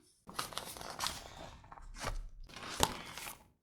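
Surprise packets are unpacked at close range in short bursts of crinkling, tearing plastic, with brief pauses between handlings and no talking.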